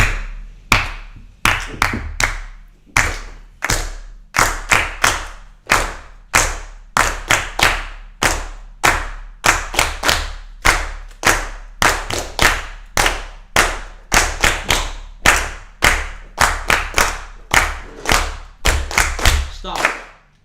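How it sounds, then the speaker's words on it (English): A live podcast audience in Dublin claps along in a steady beat, sharp, loud, evenly spaced claps repeating for about twenty seconds over a low thudding pulse, with occasional voices. "can we get a little clap going?"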